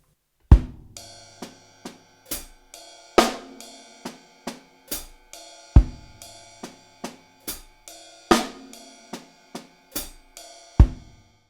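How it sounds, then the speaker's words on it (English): Linear drum groove on a drum kit, single strokes never overlapping: crisp hi-hat and snare hits woven between deep kick thumps in a steady, repeating syncopated pattern, played close and loud with no talking. "now the last groove of the last section is gonna sound like this"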